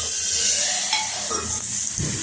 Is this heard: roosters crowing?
no